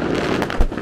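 New Year fireworks over Munich burst in a loud, dense crackle close by, with a deep thump near the end of the brief burst.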